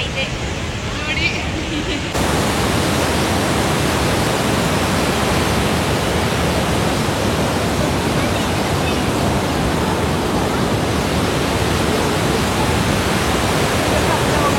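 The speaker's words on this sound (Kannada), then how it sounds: "ನೀರು ಎಷ್ಟು ಫೋರ್ಸಾಗಿ ಬೀಳ್ತಿದೆ ಅಂದರೆ ನಮಗೆ ಫೇಸ್ಗೆಲ್ಲ ನೀರು ಹಂಗೆ ಮಳೆ ಬಂದಂಗೆ ಫುಲ್ಲು ನೀರು ಹಾರ್ತಾ ಇದೆ" Water plunges forcefully from the spillway of the Gorur Hemavathi dam, a loud, unbroken roar of falling spray that fills everything. A voice is briefly heard at the very start before the thundering water takes over.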